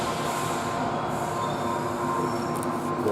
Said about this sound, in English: Oh, the trains are amazing.